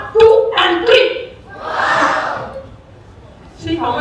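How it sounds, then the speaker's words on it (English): An audience at a live motivational talk at a dental institute shouts a loud, drawn-out "wow" in unison, a single swelling crowd cry set between bursts of a man's speech. "give me a wow loudly"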